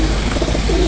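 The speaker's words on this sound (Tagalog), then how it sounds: "Apat na po dumarating natin ibon." Racing pigeons at their loft during south training, giving soft, close cooing calls in a short burst over a low, steady background hum.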